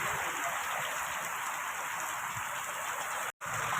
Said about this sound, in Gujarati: ફૂલ પવન છે અને ધોધમાર વરસાદ પડી રહ્યો છે.